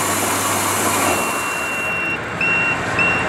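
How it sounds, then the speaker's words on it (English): A paddy rice quality test machine hums and rushes steadily while its finish buzzer sounds in the second half, a thin electronic tone cutting in and out in short repeated beeps over the machine noise. "here is the buzzer. It will make the sound so you can understand that it's finished."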